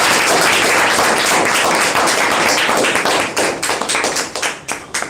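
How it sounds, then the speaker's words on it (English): A group of online discussion participants applauds themselves with dense, loud clapping that thins out into scattered individual claps toward the end. "Clap for yourself."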